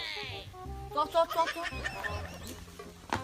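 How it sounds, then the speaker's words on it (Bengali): Chickens cluck in short, close bursts, with a higher squawk at the start; a few quick clucks follow in a loose rhythm. "দেখ ওই যে দুটা মুরগি"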